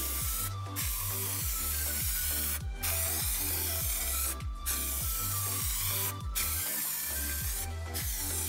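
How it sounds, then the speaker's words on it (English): An aerosol can of primer sprays onto the front fender of a 50cc Rieju MRX dirt bike in regular hissing bursts, about five short passes under a rhythmic mechanical thumping in the background. "now it's time to put on some primer on this front fender, and then I'm gonna paint the fork"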